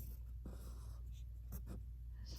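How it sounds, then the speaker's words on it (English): A pen or marker draws a triangle during a math lesson, producing short faint scratchy strokes over a steady low hum, with no voices. "I write my triangle."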